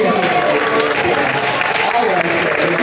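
Loud, sustained applause from a room of guests fills a family reunion dinner, a dense continuous clatter of many hands close by.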